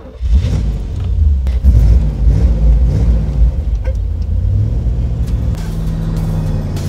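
A 1963 Chevrolet Corvette roadster, restored as a weekend driver, runs steadily on the road with a loud, continuous low engine rumble and a few surges of revving, close up and with no talking.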